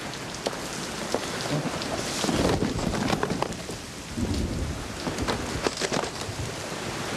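Steady rain falling and splattering on surfaces in an outdoor scene from the soap opera Passions, with low thunder rumbling through the middle and scattered louder drops, with no talking.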